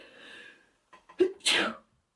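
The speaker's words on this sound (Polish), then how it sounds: "To ja zawsze kicham." A single sharp sneeze bursts out close to the microphone on a quiet morning, preceded by a faint breathy intake and a brief stutter of small sounds.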